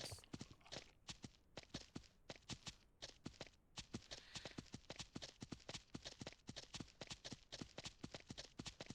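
Horse hooves in the Ranch Simulator game, clip-clopping in a brisk regular rhythm of sharp close hoofbeats, quiet overall and without talk.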